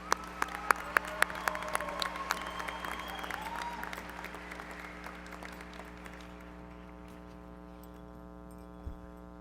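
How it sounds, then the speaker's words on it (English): A high school graduation crowd applauds in a large hall. Dense, sharp clapping starts loud, then gradually thins and fades to quiet, with a low steady hum underneath. "So let's give her a round of applause."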